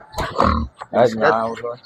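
A young gilt pig on a farm gives a few close, loud grunts and oinks in short bursts, with a brief gap between them.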